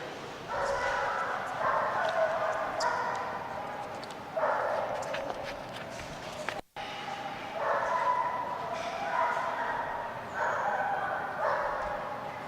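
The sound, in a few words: Belgian Malinois dog barking on diving dock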